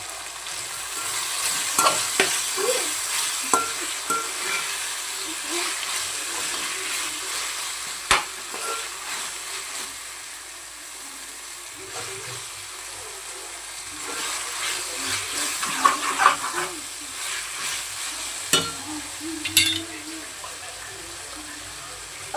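Mint and coriander leaves frying in a pan and being stirred while making coconut rice: a steady soft sizzle with scraping stirs, louder bursts around the middle and near the end, fairly close.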